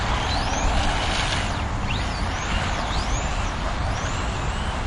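A Team Associated Datsun 620 RC car with a spool differential drives and drifts, giving a loud, continuous broadband roar with a motor whine that rises and falls repeatedly as it slides.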